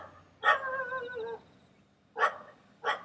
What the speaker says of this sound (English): I think we have a dog below who's barking his head off right now.